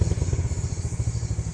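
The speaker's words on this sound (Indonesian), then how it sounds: "Jadi kalaupun nggak nembak itu bunyi knalpotnya seperti ada sisa ya." Yamaha Jupiter Z motorcycle exhaust sputtering and popping after the throttle is closed, a rapid, uneven chain of close, loud pulses that continues throughout.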